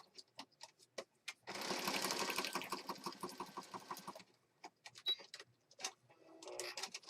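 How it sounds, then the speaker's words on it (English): Sewing machine stitching around the edge of a junk journal page: a dense, fast mechanical whirring burst of about three seconds, close by, framed by scattered clicks and taps before and after. "So I just stitched all the way around there."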